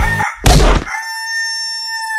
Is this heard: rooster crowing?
yes